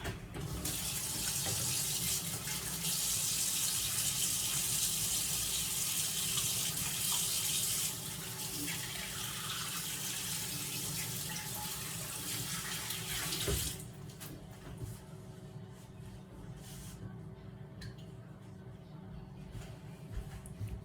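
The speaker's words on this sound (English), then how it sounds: "I'm gonna wash my hands" A kitchen tap runs steadily for hand washing, a loud continuous rush of water that shifts in tone as hands move under the stream, then drops to a softer trickle near the end.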